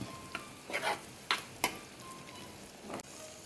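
Squid roast masala with chilli powder, turmeric and garam masala is stirred in a hot pan: a soft continuous sizzle with a few brief scraping strokes of a spatula, close and fairly quiet.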